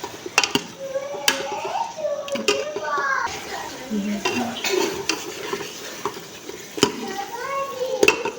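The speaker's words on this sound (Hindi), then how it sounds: "अब हम आलू की भुनाई अच्छे से करेंगे इसमें" Potatoes roasting in a pan are stirred with a utensil, producing scraping and clinking against the metal alongside a soft sizzle, while speech runs over the cooking sounds.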